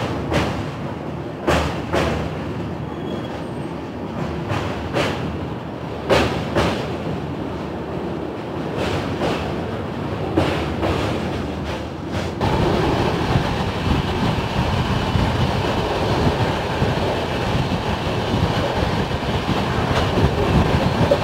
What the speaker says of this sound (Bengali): আমাদের ট্রেন এই মুহূর্তে পৌঁছালো হচ্ছে ঝাড়খণ্ডের ধানবাদ জংশন